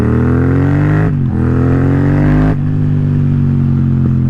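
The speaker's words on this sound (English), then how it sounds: "I just gotta enjoy the downshift pops on this thing." A 270-degree parallel twin motorcycle engine droning loud and close while riding, dropping in pitch through downshifts, with faint crackles from the exhaust and no talking.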